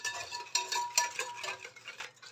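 A spoon stirs orange or mandarin juice into a baking mixture in a bowl, with soft repeated scraping and clinking strokes at close range and no voices.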